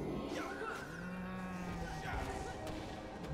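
Cattle moo in low, drawn-out calls among combat noise in the Guild Wars Nightfall game, with two clear moos standing out over steady background sound.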